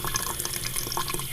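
Tap water runs steadily into a sink while dirty coins are washed off after scrubbing with baking soda, a close, even splashing hiss.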